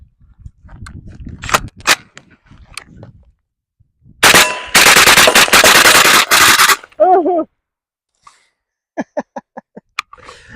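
A PSA JAKL bullpup rifle fitted with a Franklin Armory BSF3 binary trigger fires a loud, rapid burst of shots for over two seconds, with scattered clicks and clanks before it and a string of sharp reports afterward.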